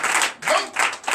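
Congregation clapping during a Sunday worship service, a short burst of dense hand claps that swells, dips briefly and returns, fairly close and loud with no talking over it.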